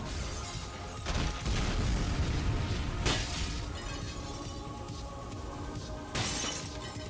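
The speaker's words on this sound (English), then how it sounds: "I'm not really a fan of the glass break sound effect." Glass shattering in the video game Team Fortress 2 on a Deathrun map, several bright crashing breaks over a dense, loud background of game noise.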